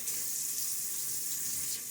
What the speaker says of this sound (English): or just put some water on my face